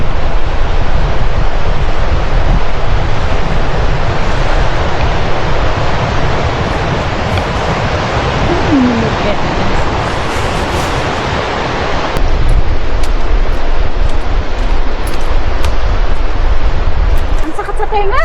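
Cold wind roaring steadily against the microphone during a road trip, a loud, unbroken broadband rush that barely changes over the whole stretch.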